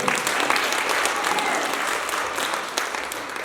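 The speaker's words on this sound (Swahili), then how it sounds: "Mshangilie Bwana kwa makofi." A church congregation claps together in a dense, sustained burst of applause that fills the space evenly from start to finish, with no talking over it.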